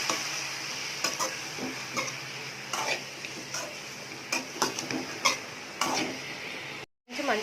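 Banana flower fry being stirred with softened onions in a pan, spoon scraping and clinking against the metal in irregular strokes over a low background sizzle, with a brief dropout near the end.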